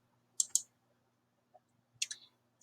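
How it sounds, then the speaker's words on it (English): Computer mouse clicks in two quick double-click bursts, close and crisp, separated by a pause with faint low background hum and no talking. "I'm clicking here."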